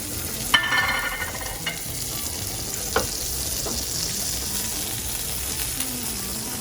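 A turkey burger patty topped with melting smoked cheddar sizzles steadily on a grill, a constant close hiss with a few sharp pops and crackles and no voices.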